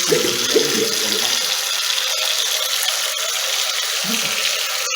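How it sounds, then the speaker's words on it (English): Water runs steadily from a tap as a continuous broadband rush, fairly loud and close, with faint low rumbles and small knocks underneath and no speech. "Look at the quality of water that's flowing in the tap."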